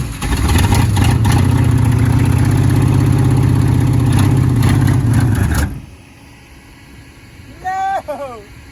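A neglected 1977 Ford F-150 engine runs loud and steady with a rough, low idle hum for about six seconds, then cuts off, leaving quiet background and a brief squeaky sound near the end.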